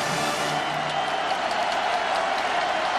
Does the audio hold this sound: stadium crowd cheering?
yes